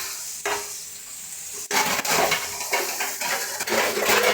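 Cooked greens being mashed and stirred in a pan, a close scraping and squashing sound with a faint sizzle and utensil clinks, no talk.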